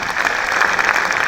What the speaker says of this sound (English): So please give yourself a big clap for achieving your aim.